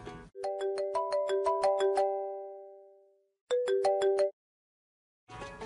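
A phone ringtone plays while a call is being placed, giving a bright, melodic chime pattern that rings out and decays, then repeats after a pause and starts again at the end, heard alone.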